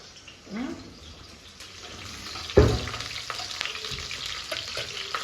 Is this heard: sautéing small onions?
yes